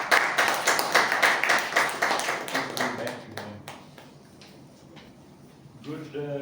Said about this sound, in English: So with a warm round of applause, please call upon Toastmaster Hitesh.